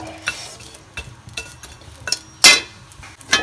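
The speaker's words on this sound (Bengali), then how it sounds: "যে আমার শুটকি মাছগুলো অলমোস্ট ভাজা হয়ে গেছে, আমি এভাবে ভেজে নিব" Dried fish frying in a pan, with a utensil stirring and scraping through it and occasional sharp metallic clinks over a low, steady sizzle; no voices.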